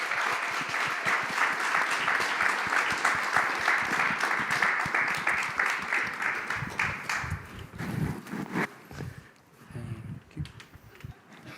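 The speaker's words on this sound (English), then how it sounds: "let's give them another round of applause, please" Audience at the TechChill Riga tech conference applauding, dense loud clapping that holds steady for several seconds, then thins out and fades into scattered claps toward the end.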